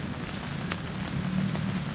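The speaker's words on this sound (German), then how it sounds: "Ja, würde ich sagen, dass es regnet." Soft, steady patter of rain falling on surfaces nearby at Lake Garda, a constant gentle wash with occasional distinct drops.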